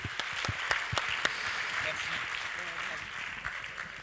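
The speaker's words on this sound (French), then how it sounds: "Bien, on peut applaudir à nouveau." Applause from the audience at a business awards ceremony in Puy-de-Dôme: continuous clapping from a large crowd, heard at moderate distance in an indoor hall, with a few sharper individual claps standing out.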